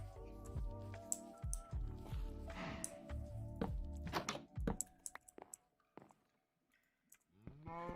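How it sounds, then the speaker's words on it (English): Blocky cows in a cold-biome Minecraft hardcore world give a few low moos mixed with game clicks and soft thunks, close and moderately loud, with pauses between sounds. "Couple of cows here, okay."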